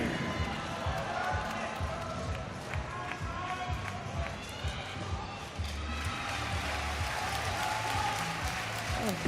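An arena crowd at the 2019 Gymnastics World Championships men's all-around final in Stuttgart applauds a routine with steady, dense clapping that fills the whole stretch, with voices mixed into the roar.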